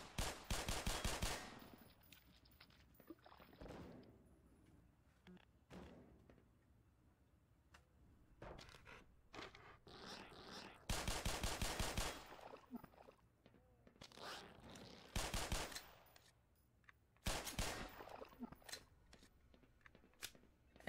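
Gunfire in the video game Black Mesa: several loud bursts of rapid shots separated by quieter stretches, with scattered clicks and clatter in between.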